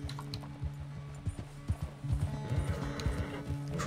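Horse hooves clip-clop in Red Dead Redemption 2, a steady close rhythm of hoofbeats that grows busier and louder toward the end, with a faint whinny-like sound in the mix.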